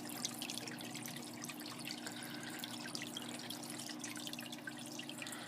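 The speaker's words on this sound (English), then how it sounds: "Return pump is pumping water back in." Water from a DIY trickle-tower aquarium sump's return pump makes a faint, steady trickling and dribbling with small drips throughout.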